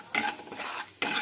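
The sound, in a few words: stirring turmeric, coriander and cumin powder in oil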